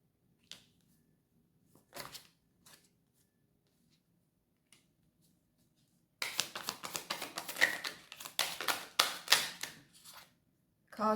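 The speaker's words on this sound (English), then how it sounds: "Cards are very hard to shuffle, very scattered energy." A few isolated tarot card taps, then a dense run of crisp riffling and flicking as the tarot cards are shuffled close up, with no voices.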